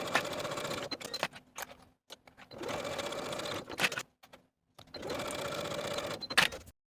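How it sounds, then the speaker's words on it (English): A sewing machine stitches the side seams of a holiday dress in three long, steady runs, each a fast even whir with short clicks and pauses between, close and loud. "Then sew each of those 3 seams with a 5/8 inch seam allowance."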